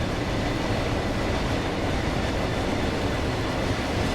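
An intermodal freight service with basic wagons passes on the West Coast Main Line in a train simulator game on Xbox, giving a loud, steady rumbling roar throughout with no talking.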